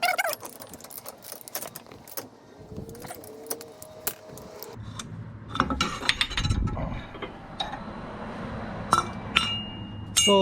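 Metallic clinks, ratcheting and tool clatter from a special tool tightening the inner tie rod on a 1999 Toyota Corolla, close and irregular with scattered sharp hits and a busier stretch midway.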